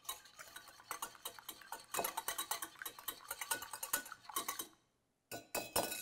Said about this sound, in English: Whisk them really well until you cannot pick up any obvious egg white.